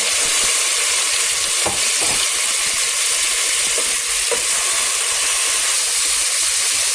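Meat sizzles steadily in a hot pan with softened onions for a Turkish okra stew, a constant close frying hiss with a few faint stirring clinks and no talk.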